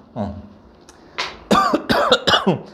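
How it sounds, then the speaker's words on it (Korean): A short cough near the mic, followed by a few hoarse, throaty bursts in a quiet room. "기침이 나."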